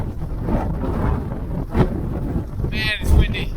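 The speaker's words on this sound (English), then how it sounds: "Man, it's windy." Strong wind buffets the microphone in rough, gusting bursts during a snowstorm at a cabin building site, with muffled voices underneath.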